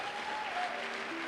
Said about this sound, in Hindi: दो जोरदार तालियां प्लीज